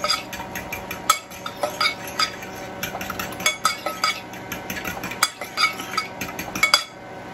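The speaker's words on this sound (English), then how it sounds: "I should mix it, I guess, huh?" Eggs seasoned with salt are whisked in a bowl, brisk rhythmic clinking and scraping of a utensil against the dish, close and continuous.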